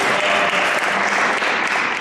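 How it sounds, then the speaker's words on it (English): Audience applause for a translator at a VinCE Budapest 2012 conference session, steady dense clapping filling the hall for the full two seconds with no voices over it. "everybody here should give the translator a round of applause"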